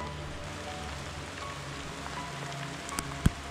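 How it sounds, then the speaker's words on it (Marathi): Heavy rain beginning to fall on Machindragad, a rock pinnacle next to Gorakhgad, heard as a steady broadband patter on surfaces throughout, with a couple of sharper drop hits near the end and no talking. "अरे अरे बहुत जोरात पाऊस येत आहे. पाऊस सुरू झाला."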